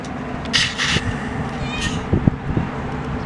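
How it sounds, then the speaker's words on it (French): A cat named Milou gives a few short meows close by, set against a steady outdoor background hum with faint knocks. "le chat vous parle"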